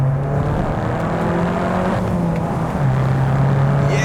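Car engine pulling hard after a shift into second gear, heard from inside as a loud, steady, droning rise in pitch with road and wind roar, no talking.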